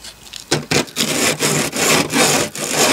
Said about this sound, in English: I'm just going to deburr this a little bit.